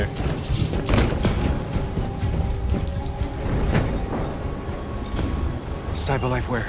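Rain falling in the video game Detroit: Become Human, a steady hiss of rainfall on surfaces with scattered louder drips, carrying under game dialogue and sound effects throughout.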